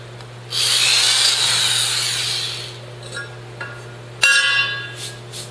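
Close, loud hammer drill grinding an anchor hole about 3 inches deep into concrete for about two seconds over a steady low hum, followed by clinks, a sharp knock and brief rattles.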